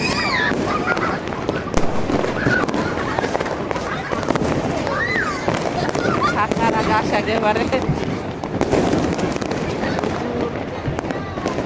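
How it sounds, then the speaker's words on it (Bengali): On New Year's night, fireworks crackle and pop continuously around a rooftop gathering, with whistling rising streaks and dense bursts filling the air while people talk and a crowd murmurs nearby. "আতসবাজিতে ভরপুর সবাই এসেছে ছাদে"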